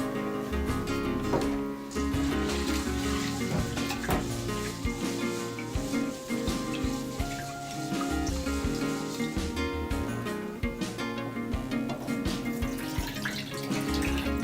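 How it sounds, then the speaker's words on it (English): Tap water running over rice being rinsed in a sink, prepared for vegetarian doenjang-jjigae (Korean soybean paste stew); a steady close splashing flow lasts throughout with no talk. "first thing you gotta do is wash the rice with water"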